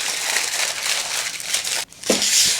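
Aluminum foil crinkles and crackles loudly and continuously as sweet potatoes are wrapped in it, broken by a brief pause before another burst of crumpling.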